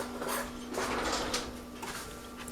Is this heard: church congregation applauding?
no